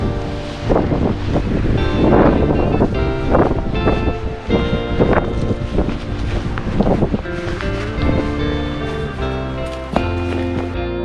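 Strong wind buffets the microphone while ocean surf churns steadily at a remote whale research station on an island, a loud continuous roar with gusty swells throughout.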